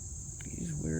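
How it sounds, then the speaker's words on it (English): Small bees buzzing close by outdoors, a thin, steady high-pitched drone that continues throughout while a voice begins speaking underneath. "These weird little bees are buzzing around me."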